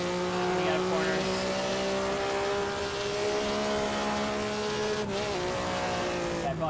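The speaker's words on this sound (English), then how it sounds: "I go locking up the tires a bit" Tires squeal briefly under hard braking in a racing sim, heard over a steady, loud engine drone that holds through the whole passage with no break.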